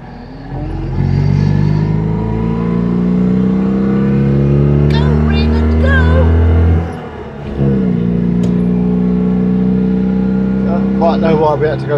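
A Citroen 2CV races at Silverstone while overtaking a Ford Mustang, its loud in-car engine droning with rising pitch, dipping briefly at a gear change, then climbing again as other engine noise passes.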